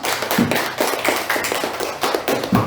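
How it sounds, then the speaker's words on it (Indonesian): Classroom clapping for a pupil, a short run of quick claps from a small group of children, fairly close and irregular, with a few sharper individual hits. "Tepuk tangan untuk Dipa."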